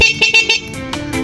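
A small electric e-bike horn honks in several short bursts, then a couple of longer blasts, close and fairly loud.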